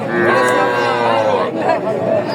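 Sahiwal cattle, a bull and a heifer calf, at a rural livestock market in Bangladesh, with a loud, close, drawn-out low moo over crowd chatter.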